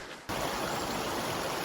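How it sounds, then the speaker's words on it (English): A subsidiary creek feeding the Malloy flows close by, a steady broadband rush of water that starts abruptly and stays loud and even, with no voices over it. "This is a subsidiary creek to Malloy"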